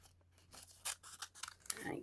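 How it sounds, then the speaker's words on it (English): Several quick, crisp snips of small scissors cutting paper, spaced irregularly, followed by a brief papery rustle, close and quiet. "I'm going to take a small pair of scissors."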